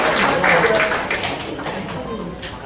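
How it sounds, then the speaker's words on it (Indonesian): An audience at an IT conference session claps together, a steady wash of applause that starts full and gradually thins and softens toward the end, with no speech on top. "Tepuk tangan dulu untuk kita semua"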